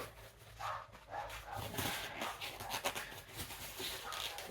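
Several dogs bark on and off at moderate distance in an indoor room, with scattered yips and whimpers over steady background noise and occasional brush or rustling sounds.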